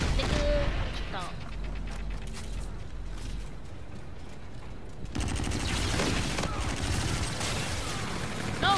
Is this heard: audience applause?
no